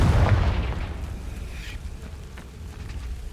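A Confringo fire spell blast in the Hogwarts Legacy video game, a loud booming burst at the start that rolls off into a rumbling decay.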